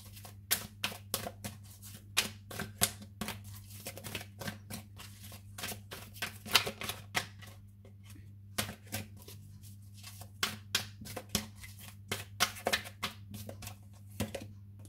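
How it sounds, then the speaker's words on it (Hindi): Tarot cards shuffled and drawn by hand, a rapid run of crisp riffling flicks and slaps in irregular bursts over a low steady hum, close and fairly quiet, no talking. "मैं साइकिक टैरोट से भी कुछ कार्ड्स निकालूंगी आपके लिए"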